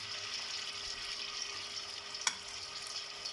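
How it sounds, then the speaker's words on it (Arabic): Beef kofta frying in hot oil in a pan, giving a steady, even sizzle throughout with one brief sharp pop partway through, with no talking. "سخنت شويه زيت وباش نبدا نقليهم الكل"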